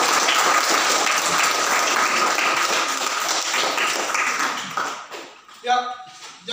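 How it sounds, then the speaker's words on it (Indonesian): A classroom of students claps together after a teacher's math explanation, a dense steady applause that thins out near the end as a voice starts talking. "Oke, tepuk tangan."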